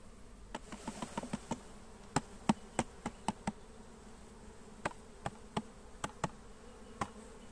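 Honeybees drone around a hive at an apiary, a faint steady buzz beneath a series of sharp knocks and taps, with no voices.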